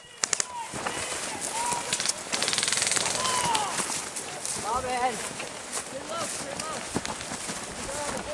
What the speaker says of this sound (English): They're just shooting over the trees there.